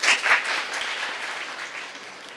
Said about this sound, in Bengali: তাদের 6 জনের জন্য একটি জোরে করতালি।